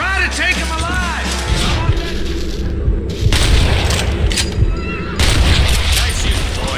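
Heavy gunfire from Red Dead Redemption booms repeatedly, loud and close, in dense bursts that fill the clip, with a voice speaking briefly over the shots.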